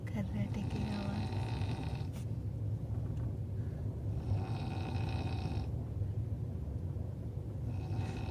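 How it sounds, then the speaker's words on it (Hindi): Steady, rumbling snoring repeats in long rasping breaths over a constant low mechanical hum of a train at night, with no talking. "सारे कमरे सुनसान है और खर्राटे की आवाज़ गूंज रही है।"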